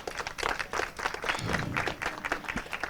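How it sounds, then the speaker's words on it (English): An audience applauds, with a burst of scattered, steady clapping from a modest crowd that lasts a few seconds. "Yes, round of applause"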